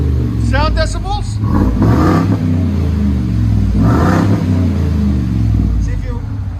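A 2020 Ford F-250 with the 7.3L gas V8 and a Flowmaster Outlaw exhaust revs hard in a few loud throttle blips over a deep idling rumble, with people talking excitedly nearby.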